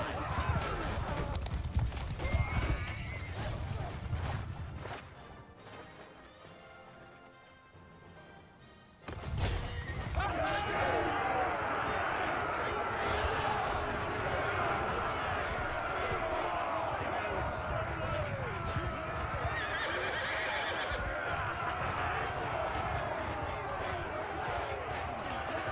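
Horses neighing and galloping amid a mounted battle in the Bannerlord video game, a dense clatter of hooves and clashing with whinnies rising over it, briefly dropping out before resuming loudly.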